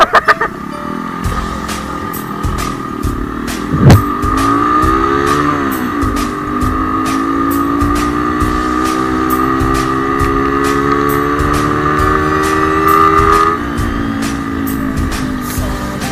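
Riding a Honda CB150R motorcycle through street traffic, a steady engine drone rises and falls with gear changes, under constant road and wind noise, with other vehicles passing and a brief thump near the start.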